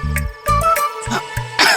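Several sharp coughs from a woman in a home gathering, loud and close, coming in bursts with short pauses, the final one harsher and broader.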